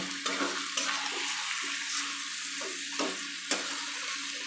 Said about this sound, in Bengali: খুব ভালোভাবে আমি এটাকে কষিয়ে নেব।